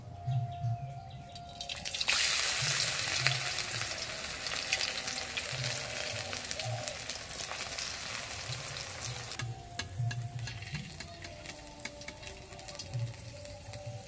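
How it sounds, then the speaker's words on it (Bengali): Flour-dough snacks frying in hot oil, a steady bright sizzle running throughout, growing louder after the first couple of seconds, with faint stirring and dripping sounds close by. "একইভাবে বাকিগুলো ভেজে নেব"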